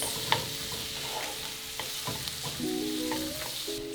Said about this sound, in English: We're just gonna cook this for a few minutes to soften the shallots.